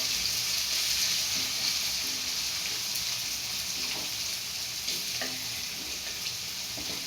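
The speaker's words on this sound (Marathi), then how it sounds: "एक साईडला बटाटे पण होत आहे आणि एक साईडला मिरची पण ही छानशी खरपूस तळली जाते" Crushed green chili paste with cumin sizzles steadily in hot oil, a continuous close frying hiss with small pops and stirring scrapes, while potatoes cook alongside in the pan for sabudana khichdi.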